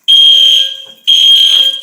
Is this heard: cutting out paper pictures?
no